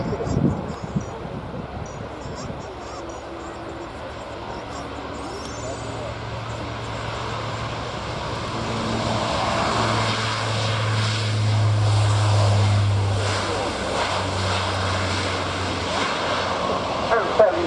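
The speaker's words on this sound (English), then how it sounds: "rolling now, Lockheed Martin CC-130J Hercules" A Royal Canadian Air Force Lockheed Martin CC-130J Hercules turboprop transport rolls for a max performance takeoff at an air show, its propeller drone building steadily from a distant hum to a loud, sustained roar with wind noise.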